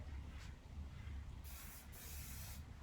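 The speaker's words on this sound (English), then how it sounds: "I'm going to spray my foot" Hissing aerosol spray from a can sprayed onto a foot bursts over a steady low rumble, with a short spray followed by a longer continuous one.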